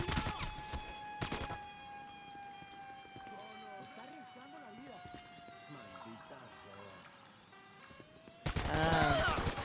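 Gunfire in the video game GTA V: a short heavy burst near the start and a louder sustained volley at the end, with a steady whining tone and a voice talking in between.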